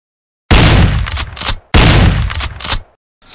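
Two loud, close bursts of gunfire, each about a second long with rapid cracking shots, separated by a short gap, followed by near silence.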